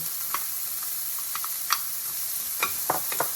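Carrots and yellow onion stir-frying in a pan for fried rice give a steady, close, loud sizzle, broken by scattered sharp spatula scrapes and taps, with no talking.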